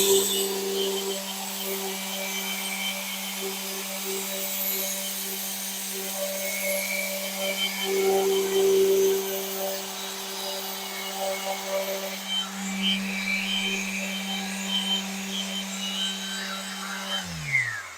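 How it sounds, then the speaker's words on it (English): A Festool sander works the edge of an ash tabletop, a continuous humming motor with scratchy rubbing as it passes along the wood, steady throughout before spinning down at the end. "now I'm ready to sand. I'm just going to dial up the speed."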